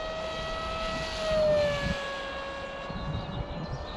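A Sipa 200 model airplane with a 6x4 APC propeller at half throttle flies in wind, its steady high-pitched engine whine rising and falling slightly as it passes, over gusty wind noise.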